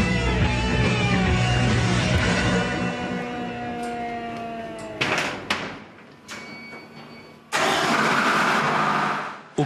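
The twin engines of a 3200-horsepower harbour tugboat run loud and close in a steady, deep drone that shifts and dips, with abrupt changes and bursts of broadband roar as the engine room noise swells.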